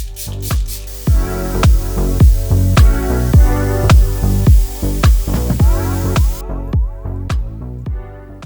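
A Dyson Airwrap hair styler blows air in i.d. Curl mode: a loud, close, steady motor whine broken by evenly spaced puffs of air, with no voices.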